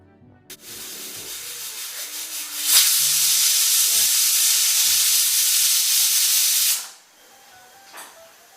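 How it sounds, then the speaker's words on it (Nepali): A pressure cooker lets off steam from its whistle in a loud, steady hiss lasting about four seconds, starting abruptly and cutting off sharply, with faint clinks around it. "प्रेसर कुकरमा 2 सिटी लागिसकेपछि सिटी सेलाउनलाई छोडिदिए।"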